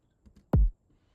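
A single deep kick drum hit, punchy and boomy with a sharp attack and a quick low decay, standing alone after a couple of faint soft ticks.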